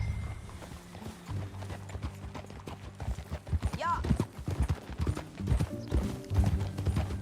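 Horse hooves clip-clop steadily at a riding pace in a video game, with a low musical drone underneath and a brief spoken word near the middle.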